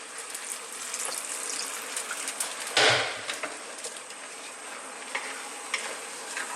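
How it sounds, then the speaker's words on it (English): Water pours briefly into a pan of okra curry cooking over above-medium heat: a short splashing gush partway through, set against a steady background hiss and sizzle. "let me grab a little bit more water in there"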